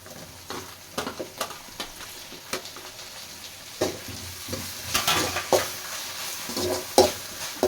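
Onions and tomatoes sizzle in a pan as a spatula stirs them, bringing repeated scraping taps over a moderate steady frying hiss, with no voices.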